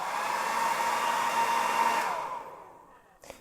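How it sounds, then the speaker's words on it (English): A small, weak hair dryer blows steadily on the joints of a Mythic Legions action figure, a close, loud airy rush that holds for about two seconds and then fades as it is switched off. "this is a weak little hair dryer. It does not get terribly hot."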